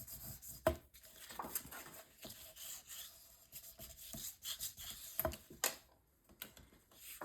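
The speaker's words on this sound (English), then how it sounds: "Then I'll burnish this down." Paper being burnished flat onto a mini album page, a soft dry rubbing and scraping that comes in short passes with a few sharper taps, close and fairly quiet, with no talking.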